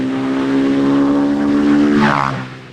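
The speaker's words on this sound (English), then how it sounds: "every time a scooter passes by" A scooter engine drones loudly and steadily, rising briefly in pitch as it passes close by, then fades slightly at the end.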